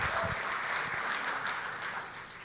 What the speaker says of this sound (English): Can we have another round of applause for Zainab, please?